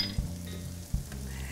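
Garlic and red pepper frying in a pan, a steady close sizzle with two soft knocks as the food shifts, and no voices.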